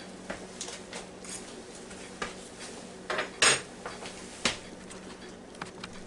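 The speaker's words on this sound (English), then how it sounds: "I'm going to try to just take a slotted spoon and spoon his veggies out" A slotted spoon scooping cooked carrots and potatoes from a Ninja Foodi pot, with light metallic clinks and scrapes against the pot, scattered irregular knocks, close and fairly quiet, no voices.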